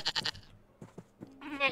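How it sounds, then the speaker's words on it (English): Goats bleat in the survival game TerraFirmaCraft, a few short nasal calls close together, then a brief gap and another bleat, fairly faint and without talk. "Still got my three goats in tow."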